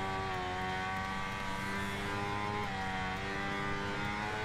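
A Kawasaki Ninja ZX-6R engine in a racing video game holds a steady high-pitched drone at constant revs, loud and unbroken with no talk.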